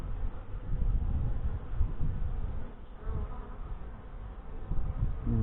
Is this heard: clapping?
no